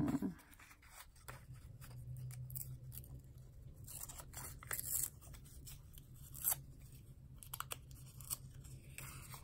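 Scissors snipping paper while cutting and shaping a size 10 envelope, a series of close, crisp cuts and crinkles scattered over a quiet background.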